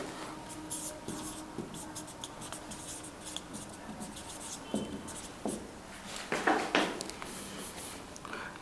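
A physics teacher writes an answer on a board with continuous scratchy strokes and brief taps at close range, getting louder near the end.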